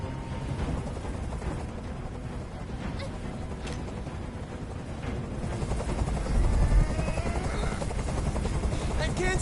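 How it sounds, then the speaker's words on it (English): In the video game Detroit: Become Human, a helicopter hovers overhead, a steady rotor drone that swells louder partway through, under an ambient game soundscape with talk. "Tell that helicopter to get out of here."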